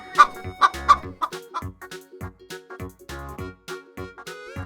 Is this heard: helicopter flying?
no